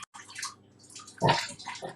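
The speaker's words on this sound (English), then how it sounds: "3 tablespoons, same spoon of water. Okay, so 3 tablespoons of water." Small spoonfuls of water poured into a mixing bowl during a children's bake-off, a few soft splashes and trickles, close and quiet with no talk.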